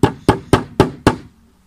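Five evenly spaced hard knocks from the broad side of a chalk hammer pounding octopus bait, close and loud, each a short dull thud with a quick decay and no talk.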